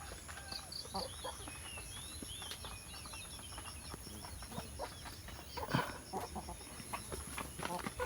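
Farmyard chickens clucking and rooster calls on a rural Philippine farm, scattered sharp bird calls over a busy outdoor background, moderately distant, with some other animal sounds mixed in.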